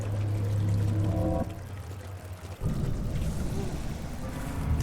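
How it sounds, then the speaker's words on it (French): Water flows in the video game Amnesia: The Dark Descent, a steady rushing pour that briefly drops off before surging back and continuing evenly to the end. "De l'eau."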